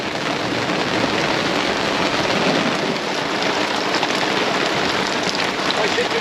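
Steady, heavy thunderstorm rain pours continuously onto a rooftop tent in Spain, a dense wash of drops close by with no pauses, drowning out everything else.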